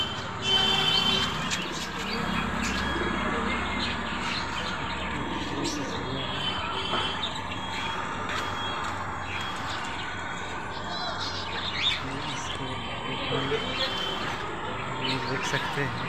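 Pet birds in a bird collection chirp and coo over a constant busy background. The calls come as scattered short chirps at a moderate distance, with some faint voices mixed in.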